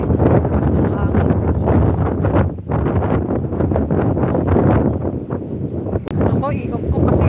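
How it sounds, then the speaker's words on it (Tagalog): Strong wind buffets the microphone in loud, continuous rumbling gusts, heavy and close, with a person's voice underneath at times. "Lakas ng hangin."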